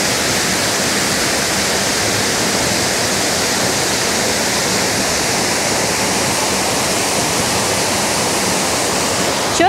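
The Todtnau waterfall in southern Germany roars as a loud, steady, unbroken rush of falling water close by, with no voices over it.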